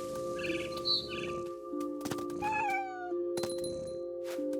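Cat in the adventure game What Remains of Edith Finch, a couple of short meows over sustained game music, with a sliding chirpy call and other effects mixed in.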